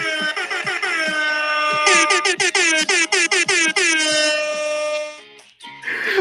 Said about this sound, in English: We're exclusively communicating through air horn Morse code for the remainder of the space.